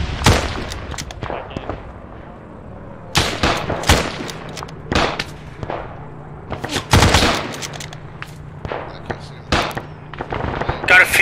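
Irregular gunfire in an ArmA3 WW2 battle: sharp, loud rifle and machine-gun shots crack close by, some in quick bursts, with fainter distant firing and a low rumble between them.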